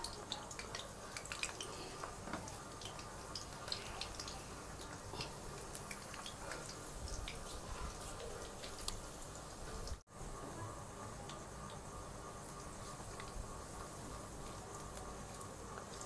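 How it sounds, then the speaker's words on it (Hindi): Chicken and potato samosas frying in hot ghee give off a steady, dense crackling sizzle with scattered pops, continuous throughout and broken only by one brief dropout. "जब तक हमारे समोसे फ्राई हो रहे हैं"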